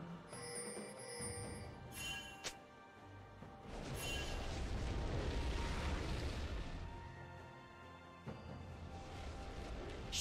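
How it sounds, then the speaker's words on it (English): A League of Legends turret collapses in a loud crumbling crash, a metallic chime ringing out before a sustained rumble of debris, with game effects and background music around it. "Blue team's turret has been destroyed."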